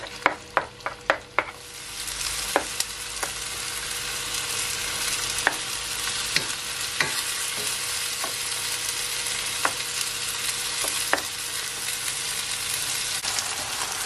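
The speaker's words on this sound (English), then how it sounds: "You wanna fry it on a high heat, but just make sure you keep an eye on it so it doesn't burn." Chicken pieces sizzling steadily in a hot pan on high heat for chow mein, a loud, continuous close fry broken by sharp clinks and scrapes of a utensil, with several quick taps near the start.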